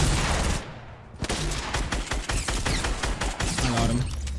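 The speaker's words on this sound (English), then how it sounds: "he's shooting with a P90" Rapid P90 gunfire in the Fortnite video game, a dense fusillade of quick shots that keeps going for several seconds, loud and close, with another weapon's bursts mixed in.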